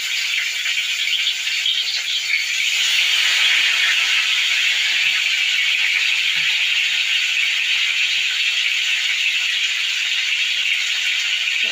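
Fish sizzling in hot oil in a wok, a steady bright hiss and crackle that holds throughout at close range with no talking.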